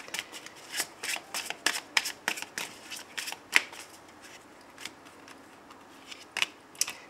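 Butterfly oracle cards shuffled by hand for a morning reading, a run of crisp riffling bursts and soft slaps in an irregular rhythm, close and alone.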